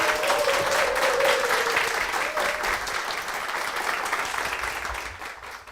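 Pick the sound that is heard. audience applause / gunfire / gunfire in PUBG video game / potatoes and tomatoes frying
audience applause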